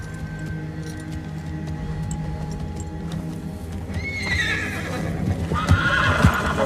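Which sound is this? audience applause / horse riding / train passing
horse riding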